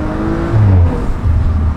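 A 2018 Audi RS4 with a V6 engine, a smooth close-up drone that swells as it pulls and eases off, then builds again, with no voices over it.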